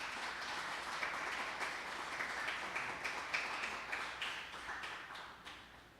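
A church congregation applauding, a faint, sustained wash of many hands clapping in a large room, with scattered louder claps that gradually thin out toward the end.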